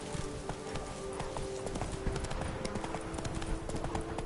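A horse gallops in a PS4 video game, with steady, rapid clip-clop hoofbeats carried at an even, moderate level throughout. A faint whinny may also be present.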